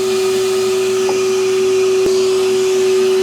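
A farm planter's vacuum suction fan runs with a loud, steady droning hum throughout, and a faint tap sounds briefly partway through.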